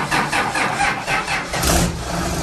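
A big diesel engine cranks and fires up inside an old lobster boat, loud and close, settling into a rough rhythmic idle with pulsing chugs.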